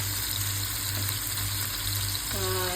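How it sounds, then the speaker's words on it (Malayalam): Masala-coated sardines fry in oil in a pan, giving a close, constant loud sizzle with a faint low hum underneath. "രണ്ട് സൈഡും തിരിച്ച് മറിച്ച് വിട്ടിട്ട് വറുത്തെടുക്കണം"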